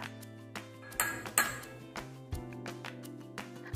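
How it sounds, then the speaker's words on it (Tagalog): Metal spoon clinks repeatedly against a bowl while brown sugar is stirred into fish sauce, a series of bright, close pings at an uneven rhythm with a couple of louder strikes, no talking. "Hinalo ko itong mabuti hanggang matunaw ang brown sugar."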